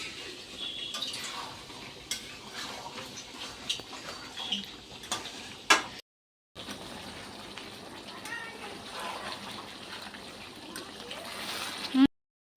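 Papad frying in a pan while chicken cooks nearby in a home kitchen, a soft continuous sizzle with scattered clinks of utensils, broken by a brief gap, with faint talk in the background.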